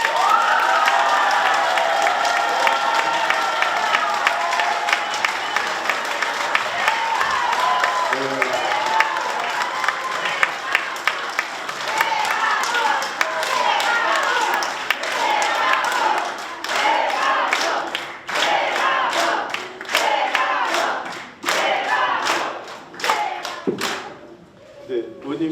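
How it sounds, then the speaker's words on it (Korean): An audience at a party education lecture applauds to welcome a speaking lawmaker, a long burst of clapping and cheering that thins into scattered individual claps and fades out, with talk over it. "모두 큰 박수로 최강욱 의원님을 환영해 주시기 바랍니다."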